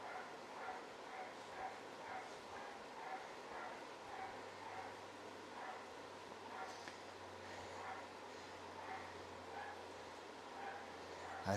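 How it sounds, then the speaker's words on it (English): A pet dog at home barks and yips in a repeated, fairly regular series. The barking sounds somewhat distant and faint over a noisy indoor background with a steady low hum. "My dog's going nuts."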